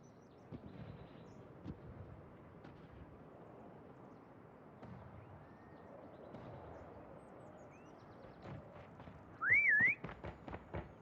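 A short rising-and-falling whistle in a prop hunt round of Call of Duty Mobile, faint and high-pitched against quiet game ambience, followed by a few light clicks.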